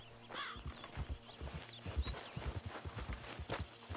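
Horse hooves clip-clop at a steady walking rhythm in the game Red Dead Redemption 2, fairly close and moderately loud, with a brief whinny-like call and light ambient game sound around them.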